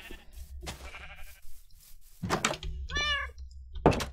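A Minecraft cat meows a couple of times, a short bright mew then a longer wavering one, mixed with thumps and game noise in a busy stretch without clear speech.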